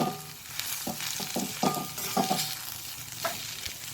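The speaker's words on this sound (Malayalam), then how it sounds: "ആ മസാലകളെല്ലാം നമുക്ക് ഇതിനകത്തേക്ക് ഇട്ടിട്ട് വഴട്ടാം" Masala and baby potatoes sauté in a little oil, giving a low sizzle broken by several sharp scraping stirs of a spatula against the pan.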